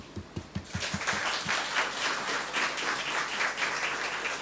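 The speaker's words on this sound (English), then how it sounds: "I think our students deserve an astounding round of applause." An audience applauds students at a public release of May–June 2024 examination results in Dominica; after a few separate opening claps, dense, steady applause from a sizeable crowd fills the rest of the moment.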